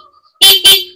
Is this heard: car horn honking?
yes